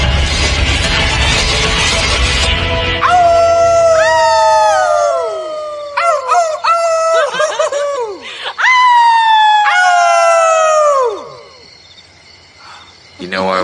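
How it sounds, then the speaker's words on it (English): Several wolves howl in overlapping, sliding tones, long rising and falling wails layered over a rough opening noise, then fading to quiet near the end. "You know why wolves howl, don't you?"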